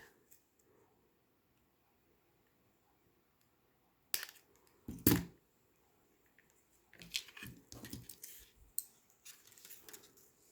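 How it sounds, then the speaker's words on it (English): Scissors snip through beading wire for a lampwork lentil bead necklace, two sharp close snips after a quiet stretch, followed by a run of small clicking and squeezing sounds as a crimp bead is pressed with pliers. "Snip it off and crimp it."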